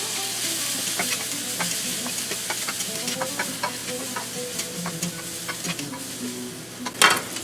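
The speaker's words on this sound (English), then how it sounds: "Gonna go ahead and add in my garlic and let that cook for about 2 minutes." Garlic and onions sizzle steadily in a pan, with a constant frying hiss and occasional scrapes of stirring, ending in a sharper clatter near the close, and no talking.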